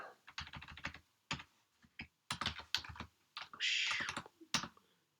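Typing on a computer keyboard, with quick clusters of close, crisp keystrokes broken by short pauses and one longer key press or slide.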